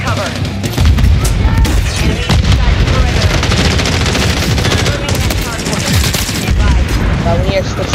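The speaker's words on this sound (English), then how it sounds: "Enemy precision airstrike. Find cover." Dense, loud gunfire and heavy explosive booms from a precision airstrike in the video game Call of Duty MW3 fill the whole stretch without a break, with faint voices mixed into the chaos.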